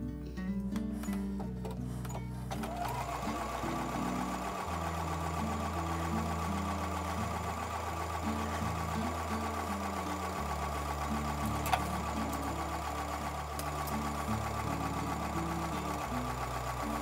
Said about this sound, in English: So I'm going to take those over to the sewing machine and sew with a 1/4-inch seam.